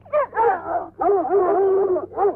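A dog barks, whines and whimpers in close, loud bursts, with drawn-out whining cries between the sharper yips.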